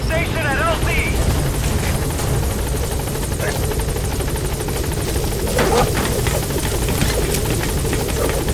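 The B-Quad support helicopter from Metal Gear Solid V arrives at a landing zone, its rotor drone heavy and constant throughout as a voice speaks over it.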